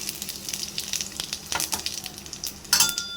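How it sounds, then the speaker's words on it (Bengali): Hot mustard oil sizzles and crackles loudly in a kadai, with bursts of spitting and popping as cumin, dried red chillies and bay leaves hit it, plus a brief stirring clink. "এখন এর মধ্যে একে একে দিয়ে দিব জিরা, শুকনো লঙ্কা আর তেজপাতা"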